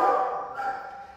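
At an animal shelter, a six-month-old retriever husky mix lets out one close, drawn-out whining bark that fades over about a second, with no talking.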